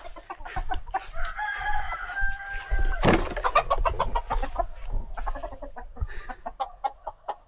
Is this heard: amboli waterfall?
no